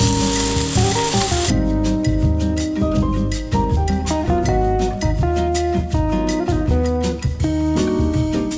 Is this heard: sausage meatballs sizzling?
yes